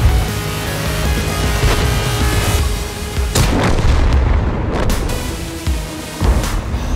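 Heavy tank cannon fire in the battle game World of Tanks, deep booming shots over a loud rumbling engine and battle din, several impacts standing out, no talking.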